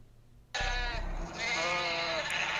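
A sheep bleat sound effect played as a joke during an Among Us gaming session with viewers: a loud, drawn-out bleat that breaks suddenly out of quiet and wavers on for about two seconds.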